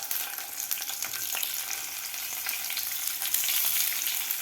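Masala-stuffed bitter gourds drop into hot oil with cumin seeds, setting off a steady, close, loud sizzle and crackle of frying that continues for the whole stretch with no talk.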